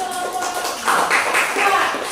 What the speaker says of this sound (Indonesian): tepuk tangan dulu kita kelompok 2